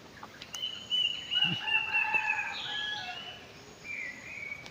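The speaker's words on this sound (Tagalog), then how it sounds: "ang dami pang ibon na maririnig dito" Several birds call outdoors, including a rooster-like crow and drawn-out whistling notes, fairly clear over a quiet background.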